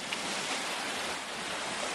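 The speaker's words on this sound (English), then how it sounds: "you can see the waves washing around" Ocean waves surging and washing around at high tide, a steady loud broadband roar of surf with wind noise throughout, no voices.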